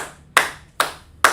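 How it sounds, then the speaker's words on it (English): Three sharp, separate claps spaced about half a second apart ring out in a classroom, each a crisp hand smack with a short decay and no voices over them. "if Mark, let's clap it up for the brother"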